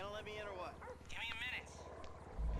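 Dogs barking in Grand Theft Auto V, a few yips and barks over a steady game soundscape with a voice talking alongside, ending in a louder low thump.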